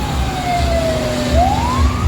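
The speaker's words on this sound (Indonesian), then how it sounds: "Nah, mobil kebakaran tadi." A fire truck siren wails past on a busy street by a bus stop, a loud descending tone that dips then rises again over the low rumble of traffic and engines.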